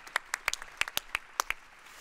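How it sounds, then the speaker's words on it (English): Sparse hand claps from a small conference audience at a mobility panel discussion, a dozen or so uneven claps over about two seconds, close and fairly faint, tapering off quickly. "Can we get a round of applause for the people asking the question"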